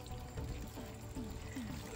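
Water is poured over freshly repotted marigolds, a soft close trickle and gurgle running steadily at low volume with small bubbling sweeps.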